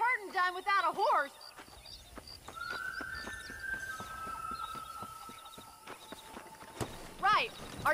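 Horse hooves in the video game Red Dead Redemption, a soft rhythmic clip-clop of a horse moving during cattle herding, heard beneath game dialogue and music, with voices speaking at the start and end.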